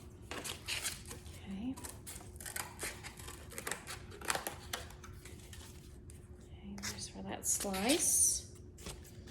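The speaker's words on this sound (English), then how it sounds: "I'm going to cut these pieces off here" Scissors snip through faux pumpkin pie slices, trimming off hanging pieces in a series of short, close crisp cuts with light handling clatter and occasional rustling in between.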